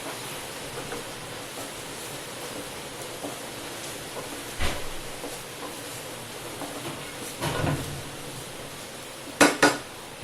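Rice and grated fresh coconut sautéed in ghee, a soft continuous hiss of frying under a few sharp spoon knocks against the pot, close and fairly steady.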